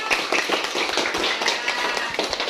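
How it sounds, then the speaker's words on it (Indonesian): Indonesian primary classroom applause for a winning student discussion group, a brief dense patter of many hands clapping at close range, steady and fairly loud without speech. "Ya, beri tepuk tangan untuk kelompok elang."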